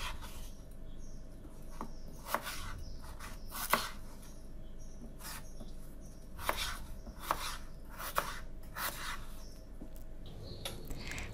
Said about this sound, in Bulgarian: Нарязвам и картофите на купчета.